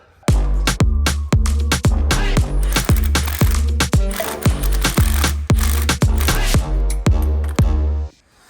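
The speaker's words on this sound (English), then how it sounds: "rotate the turnbuckle so that the bolt heads are pointing downward and the nuts are up on top" A steel turnbuckle on a heavy-duty tie rod and drag link, part of a high-steer iron knuckle install, turned by hand: a close, steady series of about fifteen sharp metallic clicks, each with a brief ringing tail.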